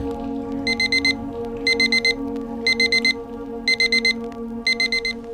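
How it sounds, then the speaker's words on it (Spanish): An alarm clock rings in five evenly spaced bursts of rapid high beeps over a steady low musical drone, loud and close. "me desperté con el sonido de mi alarma"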